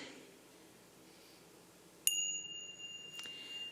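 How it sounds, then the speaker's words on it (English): A mindfulness bell is struck once to open a Sunday celebration service, giving a bright, clear ring that sustains and slowly fades, with a softer second touch shortly after, over quiet room tone. "I'm going to invite the bell as we prepare our sacred space"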